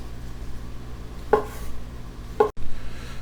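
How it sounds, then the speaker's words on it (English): A knife chops through sausage on a cutting board, giving two distinct knocks about a second apart against a quiet background hum. "Now that your sausage is chopped up"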